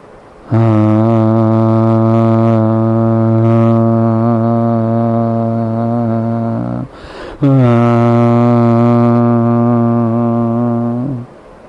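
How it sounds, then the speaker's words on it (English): A group hums with mouths slightly open, producing a loud, steady, harmonically rich drone that holds for several seconds, breaks off briefly, then resumes and sustains before stopping. "When we generate this humming sound, we open our mouth little, not more, like this."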